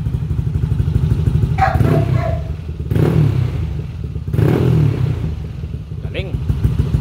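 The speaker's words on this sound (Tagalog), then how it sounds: "Rev natin." A Yamaha Aerox motorcycle with an untuned aftermarket power pipe exhaust idles loudly up close with a throaty exhaust and is revved in a few sharp bursts, while a voice talks briefly.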